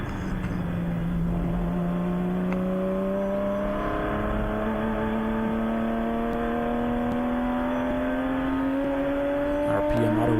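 A Mustang race car in a ChampCar endurance race rises in pitch as it climbs through the revs, steady and droning, with a shift break near the end and a commentator's voice faint underneath.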